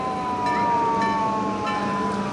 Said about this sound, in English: I guess they have electric siren on that.